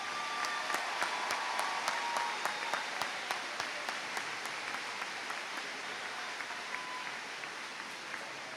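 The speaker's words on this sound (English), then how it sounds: "Huge round of applause to our top 11 scholars." Middle school eighth-grade promotion audience applauding top scholars, a continuous wash of clapping heard at a distance with a few sharper individual claps standing out, fairly faint and fading slightly.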